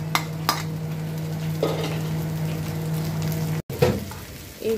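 Vegetables, egg and shrimp being stir-fried for restaurant-style vegetable fried rice, a close steady sizzle with clattering spatula strokes against the pan and a brief break before the stirring resumes.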